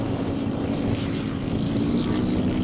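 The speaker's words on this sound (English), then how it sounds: "The Rolls-Royce Viper 202 turbojet." A Rolls-Royce Viper 202 turbojet roars steadily at an airshow, a loud, continuous broadband rush with a sustained low rumble and no break.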